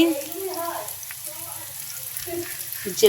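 Whole cumin seeds with garlic and onion crackling in hot oil in a pan, a light, fairly quiet sizzle under someone talking in Bengali.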